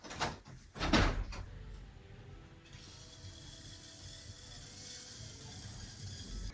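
A door is opened, two sharp clunks and a rattle at the start followed by a steady low hum of background noise.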